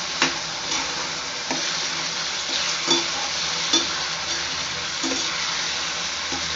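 Pirandai chutney with tamarind water bubbles and sizzles in a pan, a steady close frying hiss punctuated by periodic spoon scrapes as it is stirred.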